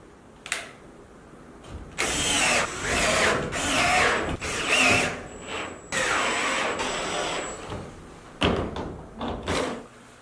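A power tool drives fasteners to secure an AC3010 actuated insulated inlet to a poultry house or hog barn ceiling, sounding in several loud bursts of whirring with short pauses between, close by and without speech.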